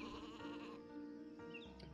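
Sheep bleating in the video game Isle of Ewe, a couple of wavering cartoonish bleats close up, heard alone with no talking.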